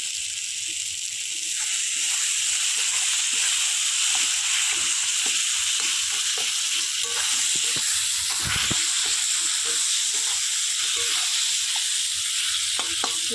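Chicken ball masala, with a pinch of sugar added, being cooked down in a pan: a steady, close sizzle runs throughout, broken by frequent scraping and tapping of a spoon stirring, with no talking.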